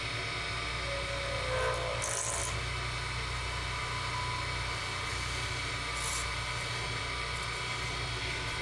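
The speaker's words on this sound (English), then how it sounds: "That was scraping, and there should be a couple of chatter marks on my blank." A skew chisel scraping a paua shell pen blank spinning on a lathe, a loud continuous grinding rasp over the motor's steady hum, with brief harsher bursts of chatter at a couple of points.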